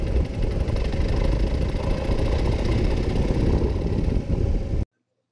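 A Harley-Davidson Sportster Forty-Eight with its stock exhaust runs close by with a steady, throbbing, knocking rumble, then cuts off abruptly near the end.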